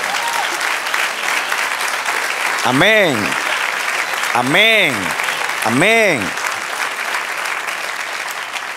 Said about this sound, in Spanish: Dale aplauso, celébralo.